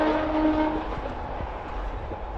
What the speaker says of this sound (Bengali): মানে প্রায় 5 মিনিট ছাড়া একটা করে ট্রেন যাচ্ছে।